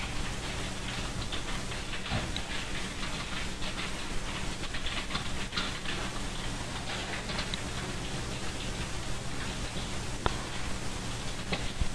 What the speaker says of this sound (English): we can get the steam.